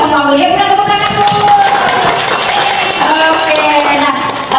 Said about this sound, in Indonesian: Ya, kita tepuk tangan, Bu.